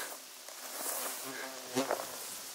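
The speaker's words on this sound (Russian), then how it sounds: "Шмели одни," Bumblebees buzz faintly over a flowering forest meadow in late June, a soft, continuous droning hum with airy outdoor background and no talk.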